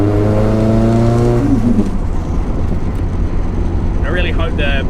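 A Nissan C33 Laurel with an SR engine hums along while driving, its engine note rising and falling steadily from inside the car, with a brief burst of talk near the end.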